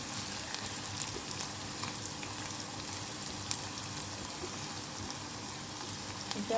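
Grated ginger and garlic fry in hot oil with curry leaves for a dahi paneer dish, giving a soft, steady sizzle with faint crackles and no voices.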